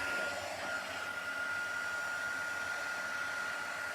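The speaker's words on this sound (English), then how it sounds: "And then I'm going to get my heat tool" A heat embossing tool blows hot air in a steady, even hiss with a faint whine, running continuously at moderate, close volume without any talk.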